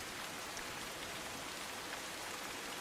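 Heavy monsoon rain pours down steadily in Surat, Gujarat, a dense, continuous hiss of drops hitting the ground with no voices.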